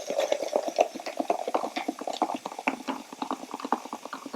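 Hot water whisked briskly into seasoned flour, heard as a fast, rhythmic run of wet clicking strokes against a bowl, close and even throughout with no one speaking.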